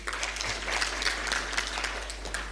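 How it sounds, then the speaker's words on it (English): An audience at a relaunch celebration for IBP Kenya, a budget advocacy organisation, applauds with steady, dense, fairly quiet clapping that continues evenly throughout, with no voices over it. "Please applaud them."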